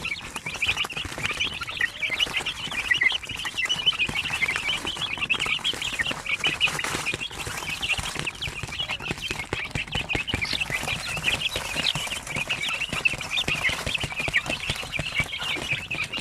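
Basilan, Zampen and Shamo Aseel chicks hatched in an incubator cheep steadily in a dense, continuous chorus of high peeping, with occasional fuller clucks mixed in and no speech.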